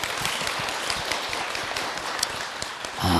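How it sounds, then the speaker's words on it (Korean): Audience applause at a Buddhist monk's Q&A talk show, a dense, steady patter of many hands clapping that fills the whole stretch, with a voice beginning just at the end. "박수를 많이 주세요"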